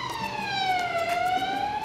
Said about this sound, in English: is how weird the Belgian sirens are